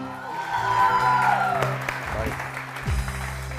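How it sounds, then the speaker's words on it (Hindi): Audience clapping on a morning TV show, heard as a steady wash of applause mixed with tonal studio sounds and low rumbles, fairly close and even in level. "तालियां ऐसी बजा दीजिए"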